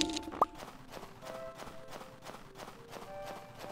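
Rhythmic clip-clop of horse hooves in the Stardew Valley farming game, a steady galloping beat repeating quickly and evenly at moderate loudness, with faint game sound effects around it.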